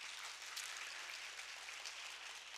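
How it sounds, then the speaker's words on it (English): An audience at a student diplomacy speech contest claps together in a steady, dense patter that holds evenly for a few seconds, fairly distant with no voices over it. "you should what? Give yourself a round of big applause"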